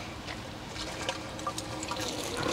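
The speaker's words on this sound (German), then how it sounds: "Fülle ich mir noch mal das Wasser auf." Water trickles and splashes faintly from a public drinking fountain in a park as a bottle is filled outdoors, with soft steady background noise and small irregular drips throughout.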